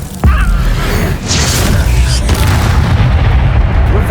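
A fire spell cast in the video game Hogwarts Legacy bursts out with a sudden loud boom, followed by a sustained roaring, crackling rumble that stays dense and heavy to the end.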